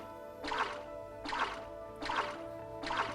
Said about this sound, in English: They have like 3 splash sound effects and they just sort of loop them randomly.